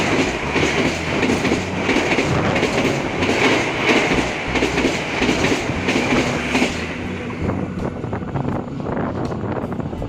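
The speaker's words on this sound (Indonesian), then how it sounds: "kita tunggu KA Taksaka ngebut dari Jogja tujuan Jakarta di stasiun Kerawang" The KA Taksaka express from Jogja to Jakarta thunders through Karawang station at speed, a loud, steady roar of wheels and clickety-clack with wind buffeting the microphone, easing slightly toward the end.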